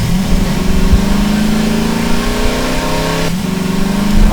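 Car engine in Garry's Mod revving steadily and pulling away, a loud continuous mid-pitched drone that rises in pitch, drops briefly as the gear shifts, then climbs again.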